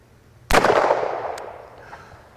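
A single sharp shot from a Smith & Wesson 629 .44 Magnum revolver fired outdoors at a target range, one loud crack followed by a long fading echo that trails off over about two seconds.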